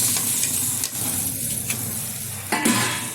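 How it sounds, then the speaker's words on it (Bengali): Potato and omelette curry stirred in a pan, a close, constant sizzling hiss with soft scraping strokes of a spatula recurring every second or so. "খুব সুন্দরভাবে একটু নেড়ে চেড়ে নিচ্ছে।"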